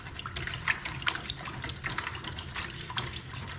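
Salt and sugar are stirred into hot water for a fermented hot sauce brine, giving a close, continuous sloshing and swirling of liquid with small splashy peaks.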